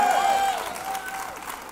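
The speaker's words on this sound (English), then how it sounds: "Come on, let's give them a great big applause." Congregation applauding during a Baptist church service, a dense wash of clapping and crowd noise that is strongest at the start and gradually fades.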